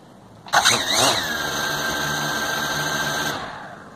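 Motors of an SG908 Max drone spin up sharply, then hold a steady, close, high-pitched whine for about three seconds before cutting off abruptly.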